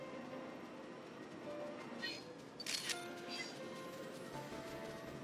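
In New Pokémon Snap, a single camera shutter click snaps a photo, a brief sharp burst in the middle against a quiet, low background hum, with no voices nearby.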